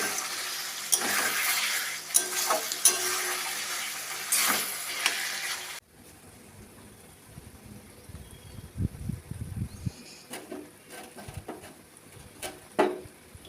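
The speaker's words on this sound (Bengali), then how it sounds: "এখন আলু পটল একসঙ্গে মশলা দিয়ে কষানো হচ্ছে" Potato and pointed gourd sautéing with spices in a pan: a loud broadband sizzle for the first half, then quieter frying with scraping and clinking stir strokes, no talk.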